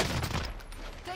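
Gunfire in the video game Warzone: a short burst of rapid shots up close, dense and crackling, with a voice faintly mixed underneath.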